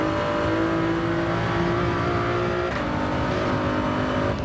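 Race car engine at full throttle in Gran Turismo 7, a loud sustained whine with steady harmonic tones and a brief shift in pitch near the end, no talking over it.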